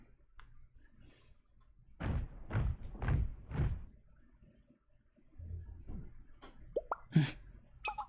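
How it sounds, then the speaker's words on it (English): Explosions from fire support in the video game Blue Archive: a rapid cluster of four heavy booms, then scattered quieter thuds and a sharp high burst near the end, all moderately distant with no talking. "Explosions! That sounded like fire support."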